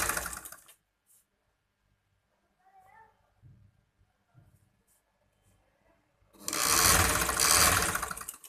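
A sewing machine stitches lace onto kurti fabric, heard as a short burst at the start and then a loud, steady run of about two seconds near the end, with quiet handling noises and a few soft voice sounds in between.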